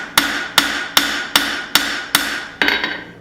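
A hammer strikes hot flat bar being forged into tongs, seven sharp ringing blows at an even pace of about two per second, each decaying quickly, close and loud with no talking.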